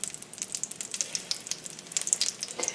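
Two fish pieces sear in melted butter in a pan over medium-high heat, giving close, crackling sizzle with rapid irregular pops and spatters, no voices.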